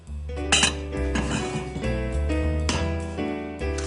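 Pots, pans and a lid clink and clatter in a home kitchen during Christmas cooking, with repeated metallic knocks and rattles over a steady low hum, fairly close and clear.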